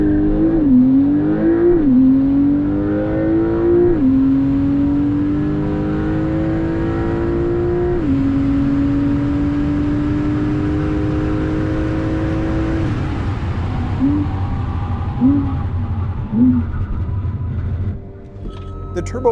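A 2023 Turbo S launches in sport mode and accelerates toward 150 mph. The engine pitch climbs repeatedly and drops at each quick gear change, then settles into a long, steady pull. The sound is loud and close.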